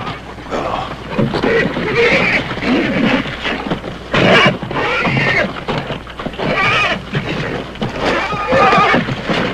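A stallion neighs and whinnies loudly and repeatedly at close range, with some hoof clip-clop and a few voices underneath.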